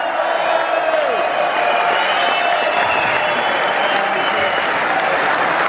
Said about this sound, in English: Another round of applause for Danny Peacock